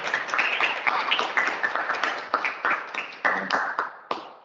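An audience claps after a talk and Q&A session at a literature and computation event. The applause is dense and steady at first, then thins into scattered, separate claps before fading out.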